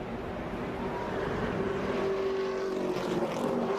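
NASCAR Sprint Cup stock cars at the Michigan Carfax 400 in 2009 droning at full throttle, a steady engine roar with a rising tonal whine, heard at moderate level without speech.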